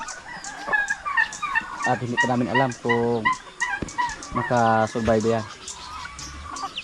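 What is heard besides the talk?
chickens clucking and crowing on a farm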